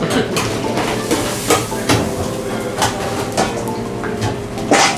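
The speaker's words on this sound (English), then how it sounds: "you want to let your sauce simmer" A Creole sauce simmering in a pan in a restaurant kitchen, a steady close sizzle broken by regular clanks and scrapes of stirring and cookware, with no talk.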